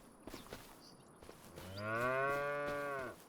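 In Farming Simulator 25, a single long, loud moo from a cow rises after a few faint knocks and holds for over a second before cutting off, with no talk over it.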